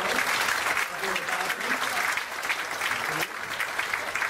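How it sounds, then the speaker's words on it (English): Audience applause at a comedy and banjo show in Bangkok, honoring long-married couples in the crowd. A dense, steady wash of clapping fills the room throughout, loud and sustained with slight swells. "give a round of applause over there"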